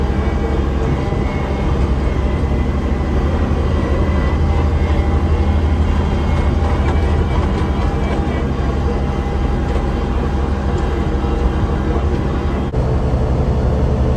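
A John Deere 1585 mower fitted with a mulch kit and Predator blades runs at 2,700 RPM cutting grass and crabgrass, a loud, steady close-up engine and blade roar throughout.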